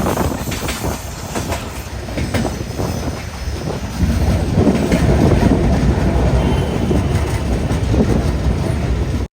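The Samata Express sleeper-class train runs on rails through Odisha near Rayagada, a loud continuous rumble and rattle of the carriage with wheel noise and a faint high squeal, growing heavier midway.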